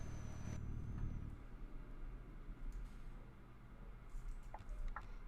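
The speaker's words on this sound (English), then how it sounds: "if you can hear the engine rumble in the background" A truck engine in Euro Truck Simulator 2 rumbles low and steady in the background. It stays faint and continuous, with only a slight swell and no talking over it.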